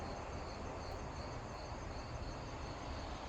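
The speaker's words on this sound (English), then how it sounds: "I get to sit outside here in the backyard, relax with a cigar, hear the crickets, birds." Crickets in a backyard give a faint, continuous high trill under a broad, steady outdoor hiss, with no clear birdsong or voices.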